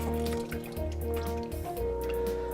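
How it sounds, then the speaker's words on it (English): Hands are washed under a running tap in a home kitchen, a close trickle and splash of water with small wet drips and squishes, running continuously without talk over a low steady hum. "Okay, now I'm going to wash my hands here."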